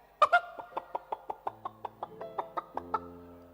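A comedian on stage at a stand-up show imitates a rooster clucking, a steady run of about fifteen short, evenly spaced clucks, close and clear.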